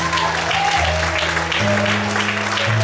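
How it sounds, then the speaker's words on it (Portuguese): Church congregation applauding during a Brazilian evangelical service, a dense continuous wash of clapping from many hands with a sustained organ or keyboard chord beneath and faint voices mixed in. "De onde você pode aplaudir e exaltar o Senhor essa noite."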